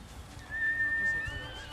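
A horse whinnies in the video game Ghost of Tsushima, one rising neigh about a second long over a low ambient game backdrop.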